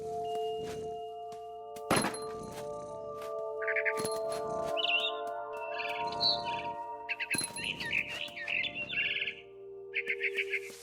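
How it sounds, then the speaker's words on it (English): A barn swallow chirps near a window in the video game What Remains of Edith Finch, giving quick clusters of high twittering calls over a sustained musical tone, with a few soft thunks and knocks. "Then I heard chirping outside my window. It was a barn swallow going back to her nest."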